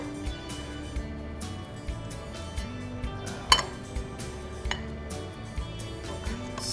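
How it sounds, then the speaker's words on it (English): A ladle clinks against a pot and bowl while BLT soup is served: a string of light metallic taps and scrapes with one sharper clink in the middle, close and fairly quiet, with no talking. "Let's ladle in some of our soup"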